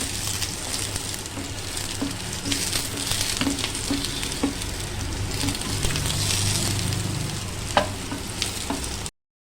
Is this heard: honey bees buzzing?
no